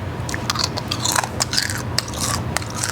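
A crunchy bacon BLT sandwich being bitten and chewed up close, giving a run of crisp, crackly crunches over a steady low background hum.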